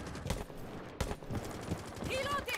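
Video game gunfire with heavy recoil, a few sharp shots at an even pace, heard under a player's excited talk.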